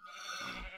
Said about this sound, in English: Man, I really gotta get those sheep somewhere better. Because my god, are they annoying.